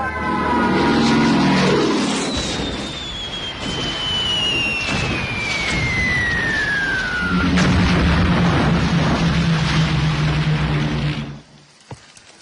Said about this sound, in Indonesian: Kediri sudah dilululantakkan oleh pesawat-pesawat Belanda